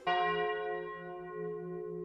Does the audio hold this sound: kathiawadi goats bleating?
no